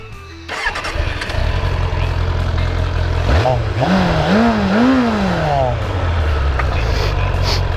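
A Suzuki GSF650 Bandit motorcycle engine starts, idles, then revs up several times in rising pulses before pulling away, loud and close throughout.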